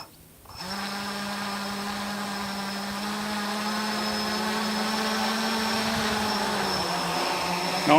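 Quadcopter drone from a new box-frame build throttling up its motors for a first flight: a steady, rising multi-tone motor whine starts after a brief pause and holds loud and continuous to the end.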